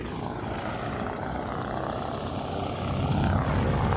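A light aircraft engine fires up at Stearman Field, a rough low propeller drone building and growing louder toward the end, close by with no talk.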